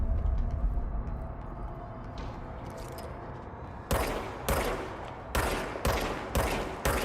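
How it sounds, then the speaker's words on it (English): Bursts of gunfire from the video game Control, a run of loud, sharp volleys starting midway and repeating in quick succession over a low ambient rumble. "I'm shooting everything but him."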